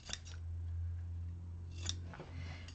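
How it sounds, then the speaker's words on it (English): Scissors snip through vinyl corners at a sewing table, a couple of close, crisp cuts standing out over a steady low machine hum. "I'm also going to go in and just trim up these corners, just reduce some of the bulk there."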